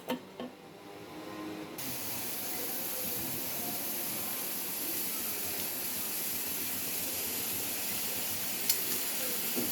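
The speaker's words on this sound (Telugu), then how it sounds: "ఒక విజిల్ వచ్చింది ఫ్రెండ్స్, ఇది 2వ విజిల్" A pressure cooker on the stove cooking masoor dal lets out a continuous loud hissing whistle of escaping steam that runs steadily for several seconds after a brief click.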